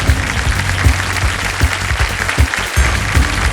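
A studio audience on a TV quiz show applauds, a brisk, continuous burst of many hands clapping together at close range for a few seconds.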